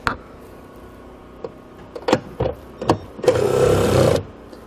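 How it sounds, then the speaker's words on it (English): A power tool with a 10mm socket spins a bolt off a stud during installation of a trailer hitch receiver on a 2017 vehicle, starting with short clicks and taps before a sustained whirring burst of about a second near the end. "We use a 10mm socket to remove the bolt."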